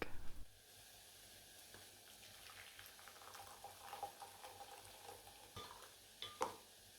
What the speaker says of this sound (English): tip the onion, garlic and pepper into the pan and give that a good stir. Cook for 3 to 4 minutes